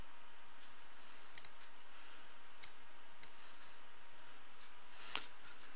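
A computer mouse clicks a few times, sparse and quiet, during a web hosting account file upload, with no talk.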